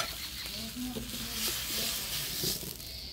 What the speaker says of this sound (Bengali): ফোড়নে দিব শুকনো লঙ্কা, তেজপাতা, এলাচ আর দারচিনি